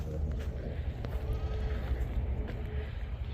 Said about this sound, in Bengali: এগুলো হচ্ছে দুম্বা বা ছাগল